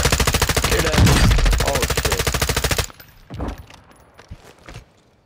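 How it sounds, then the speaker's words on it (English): Rapid automatic gunfire in a Call of Duty match, a loud, fast rattling burst lasting a few seconds that stops abruptly, followed by fainter scattered shots and shuffling sounds. "You are taking effective fire."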